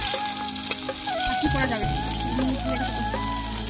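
Eggplant slices fry in a pan with a loud, continuous close sizzle, some of them burning, while someone talks over the cooking.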